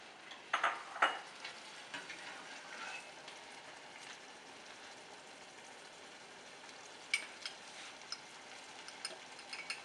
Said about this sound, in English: It's kind of deglazing the pan, mixing with the onion and the garlic